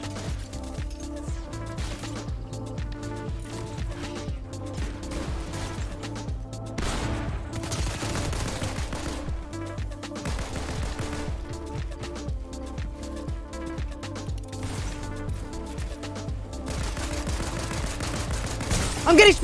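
Rapid video-game gunfire sprays at the player in a late-game arena match, with dense overlapping bursts and volleys that run nearly nonstop, close and loud throughout.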